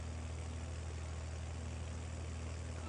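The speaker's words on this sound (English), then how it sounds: "An underrated tractor pulling an overrated forage wagon." A 200 HP tractor in Farming Simulator 22 hauls a forage wagon uphill, its engine a steady, unbroken low drone at moderate level, with no talking.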